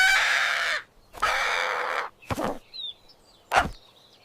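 A rooster crowing in a Filipino animated cartoon, heard as two long, loud calls followed by shorter harsh squawks and clucks, close up with no talk.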